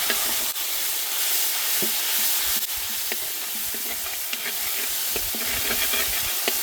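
Curry leaves and spices crackle and sizzle steadily in hot oil, a dense continuous frying hiss with sharp pops scattered throughout, tempering for spicy egg podimas.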